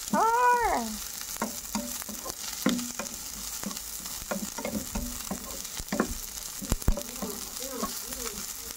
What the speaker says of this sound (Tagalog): I-saute lang natin yan.